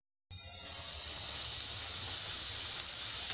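Whole milk is poured into a hot pan while making fried tea, setting off a sudden loud, continuous hiss of steam and sizzle that holds steady and close until the end.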